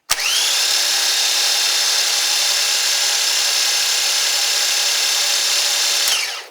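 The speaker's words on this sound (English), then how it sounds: "now I'm going to spin my starter motor by pressing my bump switch" A starter motor spins on a bench test in one sustained high-pitched whine, starting abruptly, holding steady for about six seconds, then cutting off and winding down, loud and close with no talk.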